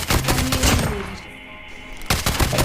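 Loud, close automatic gunfire in the video game Call of Duty Mobile rattles in fast bursts, pauses for about a second, then resumes, with no talking.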